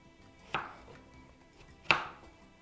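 A knife chops small potatoes into pieces on a board, two crisp distinct cuts about a second and a half apart in a quiet room.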